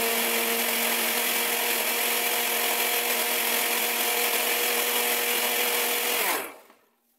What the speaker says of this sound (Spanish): lo voy a poner a licuar un poco